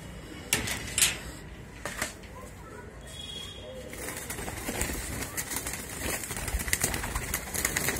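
Racing pigeons coo softly in an enclosed loft, with a few sharp wing flaps and knocks.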